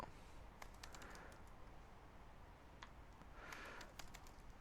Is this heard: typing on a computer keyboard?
yes